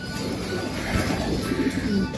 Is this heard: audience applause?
no